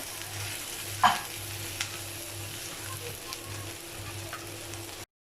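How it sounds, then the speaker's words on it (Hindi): Softened tomatoes fry in a pan while being stirred, giving a steady low sizzle with a sharp spoon scrape near the start and a few softer clinks after, close and without talk. "मिक्स करेंगे इन्हें अच्छे से।"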